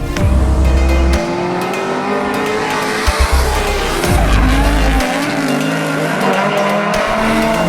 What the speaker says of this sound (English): I'm going to go do some drifting